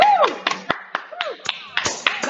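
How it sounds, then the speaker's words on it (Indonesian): A crowd claps hands in a lively burst of applause, with sharp overlapping claps and some voices mixed in. "Tepuk tangan dulu untuk Dokter Mas."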